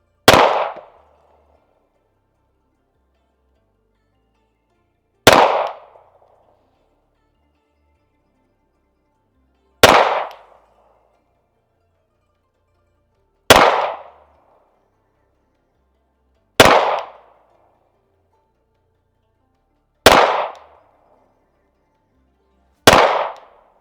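Seven sharp, loud rifle shots from an RS-15 ring out one at a time, spaced roughly three to five seconds apart, each with a brief decaying tail and near silence between.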